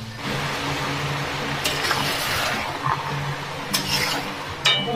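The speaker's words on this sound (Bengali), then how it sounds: "ভালো করে সব মশলাটা একসঙ্গে কষিয়ে নিতে হবে।" Spices stir-fried with chicken in a pan, a continuous low sizzle with scraping and stirring strokes of a spoon against the pan, a few sharper clinks standing out.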